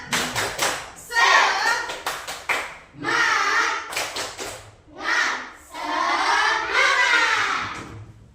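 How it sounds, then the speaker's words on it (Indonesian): A classroom of pupils performs a rhythmic spirit clap in bursts of patterned claps, separated by short pauses, with children's voices chanting along close by. "Tepuk semangat."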